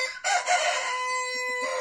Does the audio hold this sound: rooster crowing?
yes